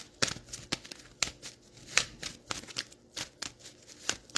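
Tarot cards being shuffled at close range, a run of quick crisp riffling bursts and soft slaps repeating at an uneven rhythm, with no one talking.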